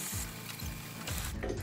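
A stand mixer fitted with a dough hook kneads donut dough, giving a steady low mechanical whir with repeating rhythmic thumps as the hook turns, close and continuous for the whole stretch.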